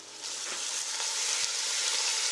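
Vegetable oil sizzling and crackling in a hot deep saucepan, a steady bright hiss that holds evenly for a couple of seconds, close and fairly quiet, with no voices.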